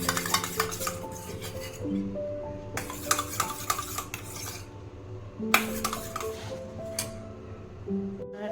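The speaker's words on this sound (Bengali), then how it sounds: "এটাকে আমি ভালো করে মিক্স করে নেব।" A spoon clinks and scrapes against a small bowl while pizza sauce, ketchup and vinegar are mixed together, with repeated metallic taps and stirring scrapes that sound close and fairly loud.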